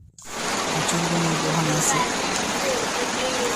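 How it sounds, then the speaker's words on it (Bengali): Rain falls outdoors in a constant close hiss that starts abruptly and holds steady, with a brief spoken phrase over it. "আমি এখন পুরো বৃষ্টি পড়ছে"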